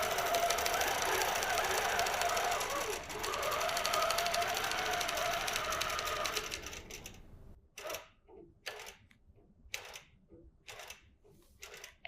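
A QCT6 quilting machine stitches a block design: a loud, steady mechanical hum of rapid stitching for about seven seconds, then stopping into a series of short, separate bursts as it ties off.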